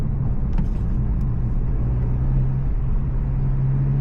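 Inside a tuned Honda Civic Si on the move, a steady low engine hum and road rumble fill the cabin at an even level, with a faint click or two early on and no talk.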